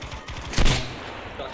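A short burst of rapid gunfire in Battlefield V with a muffled, processed quality over faint background noise.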